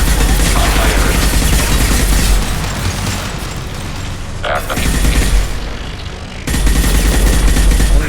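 Mass Effect 2 gunfire and explosions roar in a dense, loud, continuous barrage, with a brief lull partway through, as players shout over the combat.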